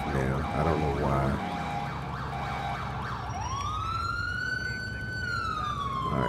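A police car siren from the GTA IV game, run with the LCPDFR police mod, rises and falls in a loud wail partway through. A constant rumble of traffic and engine noise runs underneath.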